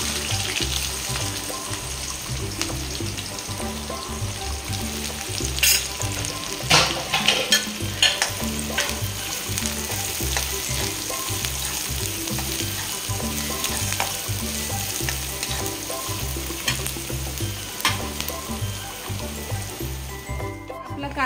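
Onion sizzles in a hot garlic and cumin tempering, with steady close frying and occasional stirring clatter over a continuous hiss, while a faint low hum and soft background sounds run underneath.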